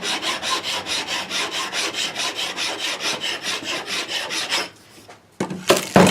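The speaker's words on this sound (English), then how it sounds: "I usually try to hit it with a file, because it raises up the melamine and the surface" A hand file scrapes across a melamine surface in rapid, even back-and-forth strokes, close and rhythmic for about five seconds, before a pause and a few louder clunks.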